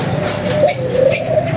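A pigeon hen coos in a loft of club ring pigeons, a soft, low, steady cooing phrase repeated over about a second and a half, with faint bird chirps behind it.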